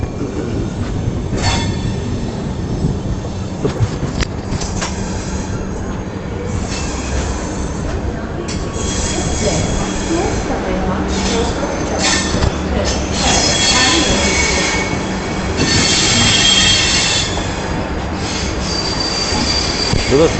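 The Yoga Express, running from Ahmedabad to Delhi, rolls into Sabarmati station at platform 6. Its wheels squeal loudly and steadily over a continuous rumble and clatter of rail cars for a long stretch.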